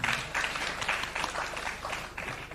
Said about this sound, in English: we should commend and clap for the management